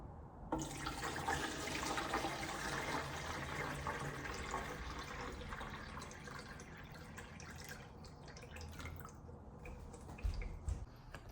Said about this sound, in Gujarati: એટલે હું ભરી દઉં પાણી